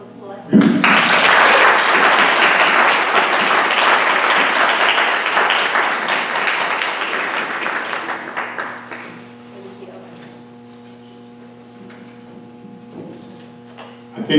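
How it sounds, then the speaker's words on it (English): An audience at a school board of education meeting bursts into loud, dense applause that holds steady for several seconds, then thins and fades into a quieter room with a faint hum and a few scattered claps. "Give a round of applause."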